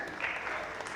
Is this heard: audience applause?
yes